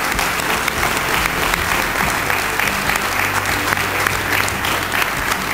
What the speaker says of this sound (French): Je veux que vous applaudissiez ce qu'il a fait